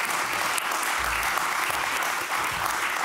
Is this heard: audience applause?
yes